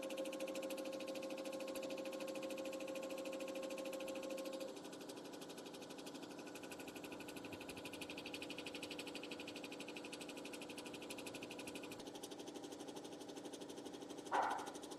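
An embroidery machine sews a patch onto a cap with a continuous rapid mechanical chatter that runs throughout at a steady level, with a brief sharp clack near the end.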